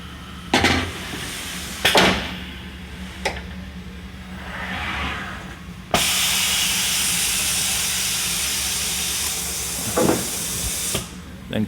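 A 996 touchscreen key machine running its automatic process on a deadbolt key, with no cutters fitted: a series of clunks and mechanical knocks, then a loud, steady hiss-like whir holding for several seconds before more clicks and a stop.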